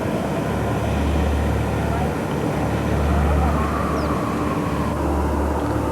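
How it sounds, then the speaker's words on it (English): Jet engines of a Northrop B-2 bomber roaring steadily during high-power engine runs at the Palmdale facility, a continuous loud rumble with a low droning hum holding for several seconds. "Once again, high-power engine runs were performed."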